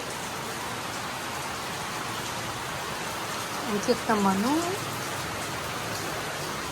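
Steady rain falls on a terrace in Dait, a constant soft hiss filling the background while someone speaks briefly over it.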